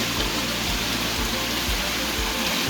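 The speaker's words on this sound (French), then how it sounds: "C'est le déluge." A heavy rain downpour during a storm at Lake Ohrid, North Macedonia: a dense, steady hiss and roar of water, loud and unbroken, with faint low thumps beneath and no talking.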